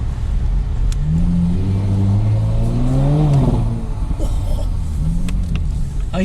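Audi S4 3.0 TFSI Quattro engine and exhaust, revved in a parking garage with rising and falling swells, a sustained climb peaking mid-clip, then settling to a rumbling idle with one more light blip, loud and reverberant.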